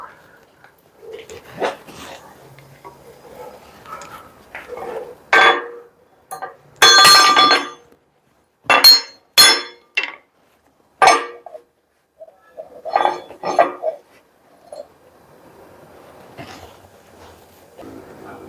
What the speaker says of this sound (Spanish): le damos con el martillo para que asiente mejor